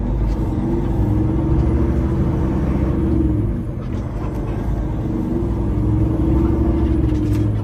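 A 2024 Peterbilt 389 truck drives along with a steady, loud, deep engine rumble, and a brief dip midway suggests a gear shift before the drone picks back up. No talking.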